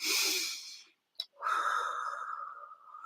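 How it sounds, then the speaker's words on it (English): Slow, deliberate breathing close to the microphone: a long breathy exhale, a brief pause with a small catch, then a drawn-out airy inhale, clear and quiet, with no talking. "And by consciously breathing"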